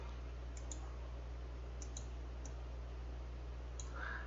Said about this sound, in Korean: 마우스 오른쪽을 누르세요.